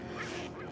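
Ducks honking from near icy, flowing water on a winter day, one close, loud goose-like call sustained for under a second with no talk over it.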